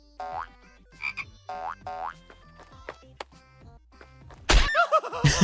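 Cartoon frog croaks, springy boing-like calls repeated several times at a steady pace, followed by a louder, noisier burst at the end, fairly close and with no talk over them.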